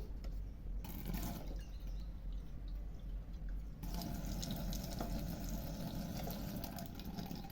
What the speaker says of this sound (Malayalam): നമുക്കിത് വേവാനുള്ള കുറച്ച് വെള്ളം വയ്ക്കാം.